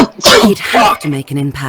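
A loud, abrupt sneeze bursts out at the start of a Genital Jousting story-mode scene, followed straight away by a voice speaking.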